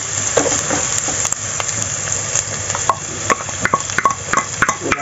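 Onion and garlic sauté in oil in a wok, a close, steady sizzle broken by sharp spatula scrapes and clinks against the metal, quickening toward the end, with no voices.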